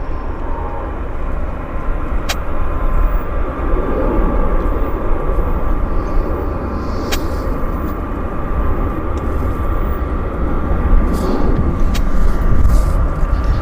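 A United Airlines jet departing Vancouver airport, bound for Chicago, gives a steady, loud broadband engine roar that holds evenly throughout, with no talk over it.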